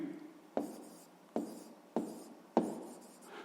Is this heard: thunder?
no